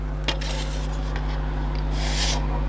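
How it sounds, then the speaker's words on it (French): Putty being sanded on a 1/12 Tamiya Porsche 934 scale model, soft scratchy rubbing strokes up close over a constant low electrical hum, with no voices. "Ponçage."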